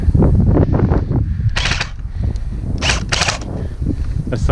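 Bursts of airsoft gunfire during a skirmish game outdoors, several rapid volleys of snappy shots at close range over a steady noisy background, the gun continuing to fire as if the fire selector has failed.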